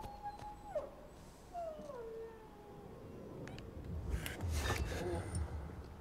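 A German Shepherd dog in the video game Dying Light 2 whimpers and whines in faint, high, wavering cries over a low game background, with a louder burst of noise near the end.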